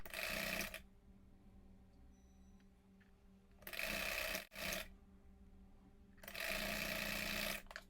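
A sewing machine stitches a folded fabric strip in three loud, close bursts of rapid whirring, separated by quieter pauses.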